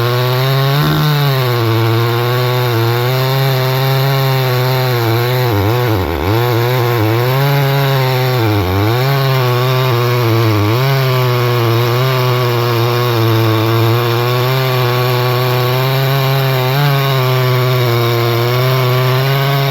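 A Stihl 011AV chainsaw cutting through knotty wood, its engine snarling loud and close, the pitch sagging and bogging in several dips as the chain bites, then recovering to a steady high whine.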